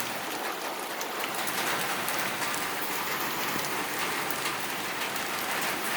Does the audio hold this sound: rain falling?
yes